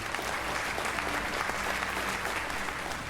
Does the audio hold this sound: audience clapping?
yes